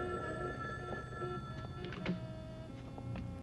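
A telephone rings in a scene from a Hindi-dubbed action movie, steady tonal ringing held at moderate level over a busy background bed, with no speech during the ring.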